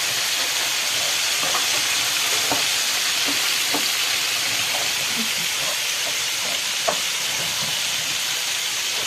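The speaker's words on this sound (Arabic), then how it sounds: "هنبدأ نقلب فيه لغاية ما يتشوح كله" Rice being stirred and sautéed in a pan for a KFC-style chicken dish, a steady loud hiss of frying with soft scraping stir sounds scattered throughout.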